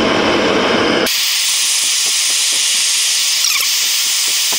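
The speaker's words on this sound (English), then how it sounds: "let me get the torch and the fire bricks out and get that ready" A torch roars with a steady hiss while heating water-hardening drill rod against fire bricks in a workshop. The flame sound is loud and continuous from start to finish, with a heavier rush in the first second.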